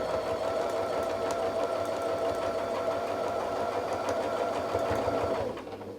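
A domestic sewing machine quilts a dahlia pattern along a ruler, running in a steady, fast, continuous mechanical whir at close range before stopping at the end.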